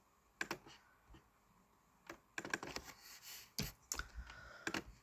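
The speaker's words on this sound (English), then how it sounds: "so I just type 0" Keys clicking on a computer keyboard in short, irregular bursts of typing with brief pauses, close but quiet, no talking.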